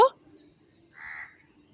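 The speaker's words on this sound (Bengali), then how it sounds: "ওদিকে একটা কাক ডাকছে" One crow caws once, fairly faint and distant, after a brief knock, in an otherwise quiet outdoor setting.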